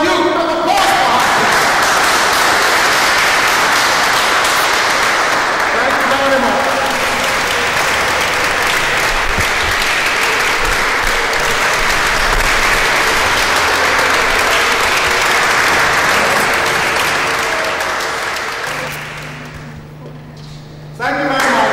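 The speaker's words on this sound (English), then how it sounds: "Nana Abubakar, a round of applause for her, please." Loud, sustained audience applause at an event where people are being introduced, with a full crowd clapping steadily for about twenty seconds before it tapers off and fades.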